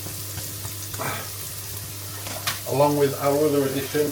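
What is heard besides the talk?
chopped onion sizzling in olive oil in a pan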